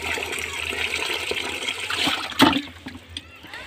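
Water splashes and trickles in a pot as rice is washed and left to soak for chicken biryani, a close, steady sloshing with a brief louder splash near the end.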